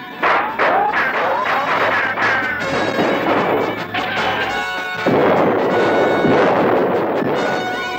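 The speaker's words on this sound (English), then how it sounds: "Still your cannon. Quiet your guns." Loud, rapid bursts of cartoon cannon booms and gunfire crackle continuously, with crashing impacts piling up throughout.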